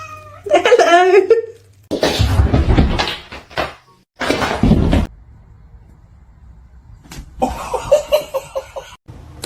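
Cats meow and caterwaul in loud, drawn-out cries, several in quick bursts with short quiet gaps between, while a person talks at times and something knocks like a cupboard or door.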